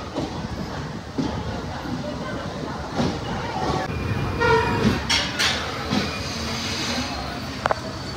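Saptagiri Express train rolling slowly into Renigunta railway station: a steady, broad rumble of the carriages runs throughout, with a few brief tonal squeals and voices nearby.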